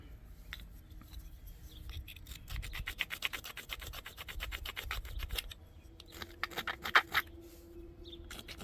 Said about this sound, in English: I need to grind this more to a tip.